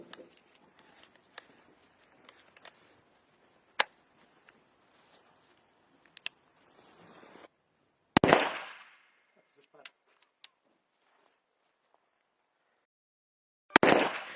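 A Smith & Wesson revolver fires a few sharp, loud reports spaced several seconds apart, each with a short echoing tail, with faint rustling and handling noises in between.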